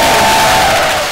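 Church congregation cheering and acclaiming at a French-language worship gathering, a loud, dense crowd roar with a sustained held tone running through it, continuous for about a second.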